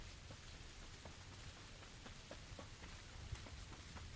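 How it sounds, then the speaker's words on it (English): Steady rain falls throughout in the PUBG battle royale game, a dense continuous patter of drops with no voices over it. "It's raining."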